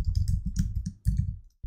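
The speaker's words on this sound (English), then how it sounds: "So add the prompt type git clone" Quick bursts of keystrokes on a computer keyboard, close and clear, in two rapid runs separated by a short pause.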